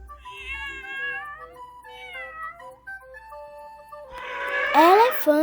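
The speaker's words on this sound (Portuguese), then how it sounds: "gato" A domestic cat meows several times in clear, drawn-out tonal cries, close and fairly loud, ending in a harsher, rising caterwaul.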